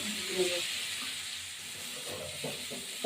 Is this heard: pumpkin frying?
yes